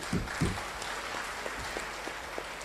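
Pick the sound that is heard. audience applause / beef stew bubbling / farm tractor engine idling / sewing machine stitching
audience applause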